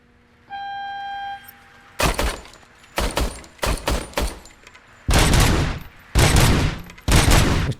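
A run of loud, sharp video game gunshots at a shooting range fires in irregular bursts, some single cracks and some rapid clusters, after a brief electronic tone at the start.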